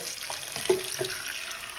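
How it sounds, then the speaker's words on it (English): Hot water runs from a tap to wash a wig of raw Indian wavy hair, heard as a soft, steady flow with a few faint splashes, close and quiet, with no talking. "take some hot water"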